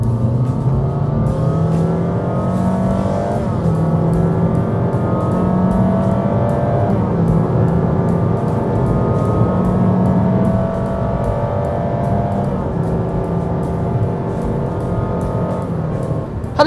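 A 2022 Honda HR-V RS in Sport mode accelerates hard from inside the cabin, the engine rising in pitch through several gear changes with loud, continuous revving and no talk.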